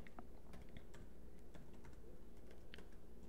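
Fingers tap out code on a computer keyboard in quick, irregular clicks, close and fairly quiet, with no talking over the keystrokes.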